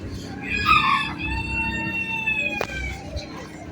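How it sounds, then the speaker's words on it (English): Chickens at the OC Fair cluck, and a rooster lets out a drawn-out crow at close range, with a sharp bang partway through amid the fairground background. "we got chickens right here."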